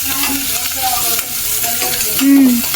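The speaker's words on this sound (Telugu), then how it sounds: "ఉప్పు వేసుకున్నాక ఇప్పుడు కొంచెం కలపాలి" Dal being stirred in a pan after salt goes in, a close scraping stir over a soft sizzle with a brief squeak near the end, no talking.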